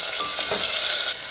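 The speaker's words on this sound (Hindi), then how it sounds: "पहले हम प्याज डाल देंगे।" Chopped onions hit hot oil in a golden tadka for a vegetable dalia pulao, giving a brief, loud, steady sizzle and hiss with a faint stirring scrape.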